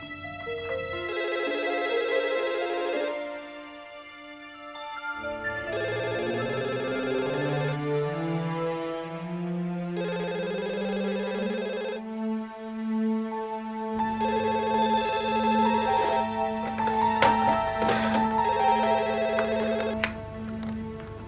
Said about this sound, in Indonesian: Telepon Mbak Sinta biar Mas bisa bicara langsung.